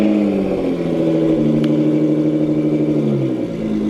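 A wrapped car rolls out of a garage. Its engine gives a loud, steady mid-range hum and rumble close by, with a slight rise in pitch partway through and no voices.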